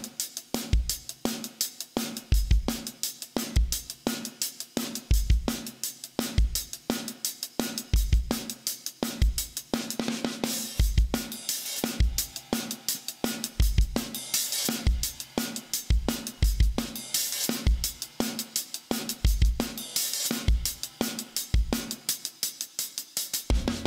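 A drum kit plays a steady, repeating groove with punchy kick and snare hits and bright cymbals, close and loud throughout.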